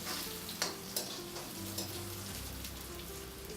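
Onion, red chili and curry leaves sizzle steadily in hot oil for a South Indian sambar tadka, with a few sharp scrapes and clinks as they are stirred in the pan.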